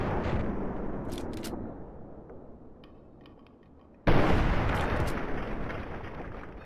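Gunfire in Fallout 3, heavy booming reports with a long rumbling decay, a few faint clicks in between, then a sudden loud blast that roars and slowly fades.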